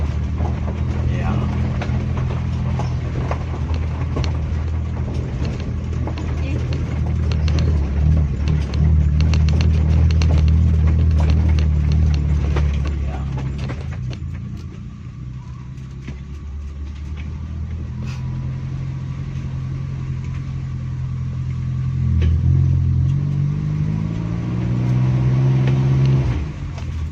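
A Feroza SUV fitted with an HCS unit rolls slowly, its engine a steady low drone that swells and eases as it moves, with people talking over it.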